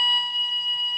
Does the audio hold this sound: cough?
no